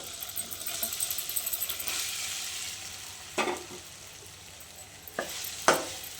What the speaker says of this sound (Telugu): నెయ్యి వేసుకున్న బాండీ హీట్ ఎక్కింది కదా ఇప్పుడైతే సగ్గుబియ్యం వేసేసుకుంటున్నాను